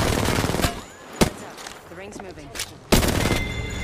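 Gunfire in Apex Legends: loud, sharp bursts and single cracks, a long volley at the start, a lone shot in the middle and another heavy burst near the end, with voices and game effects between them.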